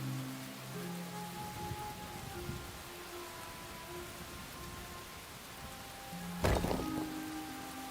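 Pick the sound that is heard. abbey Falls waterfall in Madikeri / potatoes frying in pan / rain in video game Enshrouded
rain in video game Enshrouded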